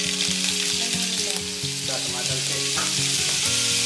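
Butter sizzles in a hot pan with oil, ready for eggs for a rice omelet with pork, a steady close frying hiss over a low hum and faint background music throughout.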